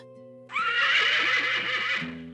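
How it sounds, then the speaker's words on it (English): A horse on a desert canyon trail gives one loud, close whinny that holds its quavering pitch for about a second and a half over a faint, steady background hum. "You hear the horse before you see anything."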